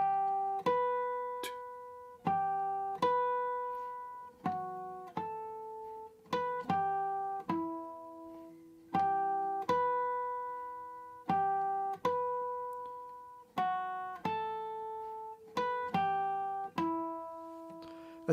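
Guitar plays the credits theme from The Last of Us Part 2 in three-time: clean plucked chords and single notes ring out and decay one after another, alone and close.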